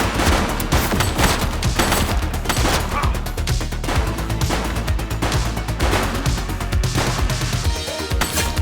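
Dense bursts of gunfire from the police video game The Precinct on PC, rapid overlapping shots and volleys hammering loudly and continuously with no talk.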